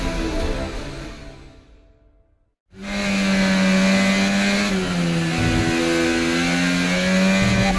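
The Konnersport Formula One car in EA F1 23 roars past at racing speed, a steady high-pitched engine whine that stays loud and continuous after a brief drop to silence.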